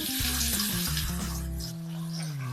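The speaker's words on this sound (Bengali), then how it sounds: "মাছ ভাজার তেলে আলু দিয়ে দিচ্ছি" Potatoes dropped into hot oil left from frying fish sizzle and bubble loudly up close, with clattering thumps of pieces landing before settling into a continuous fry.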